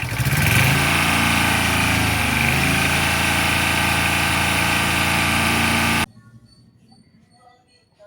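A Tata Ace engine runs loud and steady after a dynamo repair, with a rough, mid-pitched idle and slight revving. It cuts off abruptly, leaving faint workshop background.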